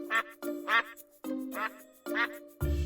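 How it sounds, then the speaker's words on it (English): Five duck quacks in a steady counting rhythm, each a short nasal burst spaced about half a second apart, close and clear over a faint tonal musical backing. "5 ducks"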